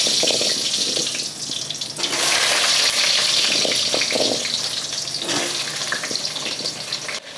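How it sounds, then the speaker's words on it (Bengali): Potatoes fry in hot oil with a cumin tempering, giving a loud, continuous sizzle that swells and surges in waves close by. "এবার ফোড়নের সঙ্গে ভালোভাবে আলুটা আমি ভেজে নেব"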